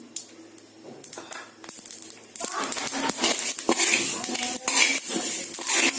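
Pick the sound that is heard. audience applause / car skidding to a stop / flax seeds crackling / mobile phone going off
flax seeds crackling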